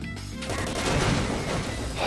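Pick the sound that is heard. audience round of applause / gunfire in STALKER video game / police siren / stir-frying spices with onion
gunfire in STALKER video game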